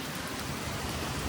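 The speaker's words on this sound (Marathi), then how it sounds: "डेंजर वाला एकदम डेंजर पाऊस आहे." Heavy monsoon rain pours on the Mumbai–Goa highway near a roadside shed, a dense, even roar of drops with no pauses, moderately loud and continuous.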